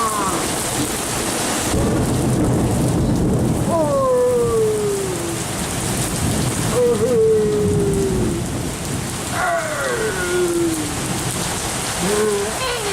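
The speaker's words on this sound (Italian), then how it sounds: "Guarda che tempesta!" Heavy rain pours steadily through a midnight thunderstorm in Sardinia, with rolling thunder and loud continuous downpour, plus a few faint whistle-like tones rising over the roar; no one speaks.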